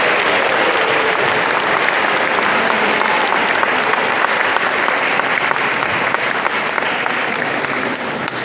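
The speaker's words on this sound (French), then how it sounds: "nous pouvons applaudir tous ces nouveaux baptisés" A church congregation applauds newly baptized people, with steady, dense clapping from a large crowd filling the space for several seconds at full volume.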